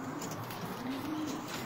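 Racing pigeons coo softly in a loft, a faint low rolling call rising and falling over a steady hiss of background noise, with no voices.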